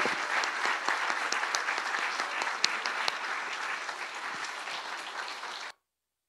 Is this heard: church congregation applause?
yes